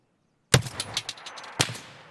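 Gunfire in Escape From Tarkov, a sharp loud shot at about half a second followed by rattling echo and smaller reports, then a second strong shot near the end.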